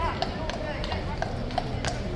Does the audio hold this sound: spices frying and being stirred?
no